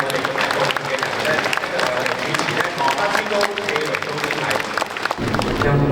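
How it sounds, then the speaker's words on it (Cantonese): A church congregation at a Catholic feast-day Mass for Saint John Bosco gives warm, sustained applause, a dense roomful of clapping that continues steadily throughout. "我哋咧一齊俾啲熱烈嘅掌聲"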